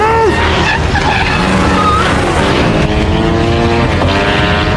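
Loud roaring motorcycle engines with screeching skids and whining revs throughout, a busy, intense film chase with steady high volume.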